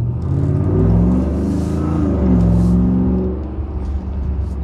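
Hellcat-supercharged V8 in a 2022 Ram 1500 TRX pickup accelerating hard, a loud, close, deep rumbling roar that swells twice as the truck pulls away on the road.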